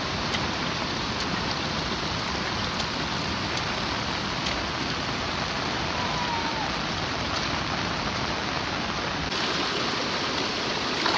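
Heavy rain pours steadily in a village, with rainwater streaming and rushing along in a dense, continuous wash of water noise throughout, close and loud with no voices.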